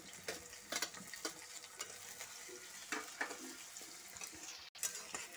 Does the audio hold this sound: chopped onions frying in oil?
yes